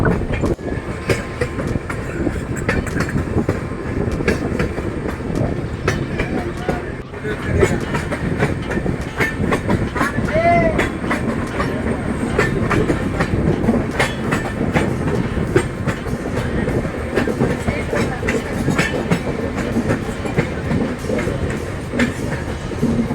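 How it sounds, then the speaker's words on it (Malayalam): A train runs through the forested Western Ghats between Mangalore and Sakleshpur, its steady rumble and rhythmic clickety-clack of wheels continuous and loud throughout, heard from on board. "ട്രെയിനിപ്പോൾ ഒരു ചെറിയൊരു ഇറക്കം ഇറങ്ങിയാണ് പോകുന്നത്."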